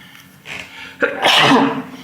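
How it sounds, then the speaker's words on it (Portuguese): A person sneezes once, loud and close: a short breathy intake, then a sharp burst that trails off, with no speech around it. "Nossa, até que enfim espirrei."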